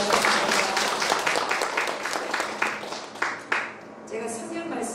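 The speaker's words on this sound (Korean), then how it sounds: "먼저 우리 하나님께 영광의 박수를 한번 드리겠습니다." A church congregation claps together in praise at a theological school's fall semester entrance lecture, loud rhythmic group claps near the start that thin out and fade toward the end.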